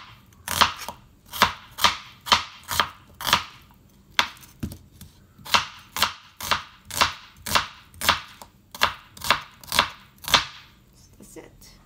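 An onion is chopped with a knife in a fast, even rhythm of about twenty sharp, close strokes, with one brief pause partway through.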